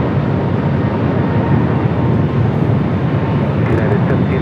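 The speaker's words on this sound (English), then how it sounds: "We'll have a north side takeoff." A jet airliner takes off from LAX, its engines a loud, steady broadband roar that fills the whole stretch without letup, close and constant.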